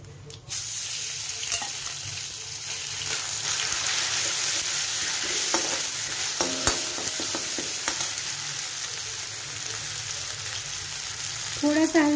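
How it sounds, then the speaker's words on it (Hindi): Asafoetida and cumin sizzle steadily in hot oil in a home kitchen, a continuous loud frying hiss with occasional stirring scrapes, no one speaking. "तेल हो चुका है, तो अभी मैं इसमें हींग डालूंगी, थोड़ा सा जीरा डालूंगी,"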